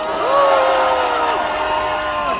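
Rally crowd outdoors at a March 1st gathering in Yeouido, Seoul, cheering and shouting in a sustained loud roar with rising and falling voices.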